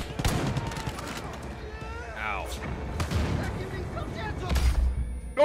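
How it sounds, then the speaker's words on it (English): Explosions and gunfire from a zombie co-op session of the Far Cry 5 expansion, with repeated sharp bangs and crackling shots over a steady rumble, and a heavy boom near the end, while players talk over it. "explosion noises"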